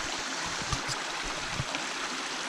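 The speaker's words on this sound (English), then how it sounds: "This was that rushing flash flood." Rushing flash flood water in a forest, a broad, steady roar of moving water with faint low thumps, heard at a constant level throughout the short stretch.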